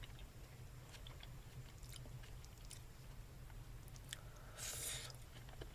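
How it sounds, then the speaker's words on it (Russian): Someone bites and chews undercooked rice with crunchy onion, giving soft, faint, close crunches and squishes against a low background hum, with one brighter crisp burst near the end. "И лук хрустит."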